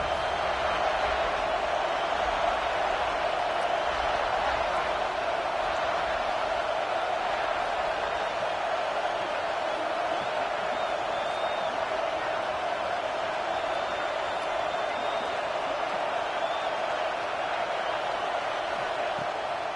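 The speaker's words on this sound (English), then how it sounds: "Listen to this crowd just shaking the girders of this place, trying to help their defense." A packed stadium crowd roars during an American football game as the defense faces a pressure play, a loud, steady, unbroken wall of cheering and shouting that lasts throughout.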